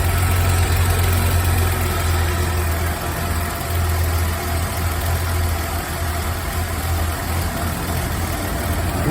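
An Audi S4 with a 2.6 engine idles with a misfire that makes the engine shake, giving a steady, close, continuous rumble and hum for about nine seconds with no voices.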